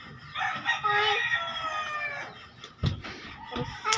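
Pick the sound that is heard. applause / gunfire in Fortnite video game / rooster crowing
rooster crowing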